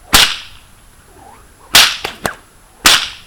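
Several sharp, loud cracks of a 20-plait stock whip, one at the start, a cluster in the middle with two lighter snaps, and another near the end, echoing briefly.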